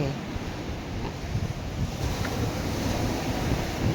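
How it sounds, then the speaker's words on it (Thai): Cool sea wind blows steadily at a beach lined with pine trees, a loud continuous roar of gusts buffeting the microphone mixed with distant surf, with no talking. "ตอนนี้ก็ลมเย็นค่ะเพราะว่ามันมีต้นสนหลายนะคะนะโ ฮมหลาย แล้วก็มี ลมทะเลเนาะค่ะลมทะเล"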